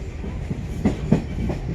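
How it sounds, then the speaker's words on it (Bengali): A train departing Kendrapur station rumbles steadily nearby, its wheels giving a couple of sharp clacks as the carriages roll along the track. "কেন্দ্রপুর স্টেশন থেকে ট্রেন ছাড়বে এবারে ছাড়লো"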